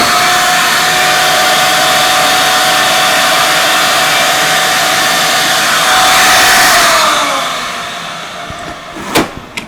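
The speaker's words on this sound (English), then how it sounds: "Vacuum on." A FormBOX vacuum former's vacuum runs as a loud, steady whirring roar with a constant hum. It swells near the end, then winds down, and a couple of sharp clicks follow.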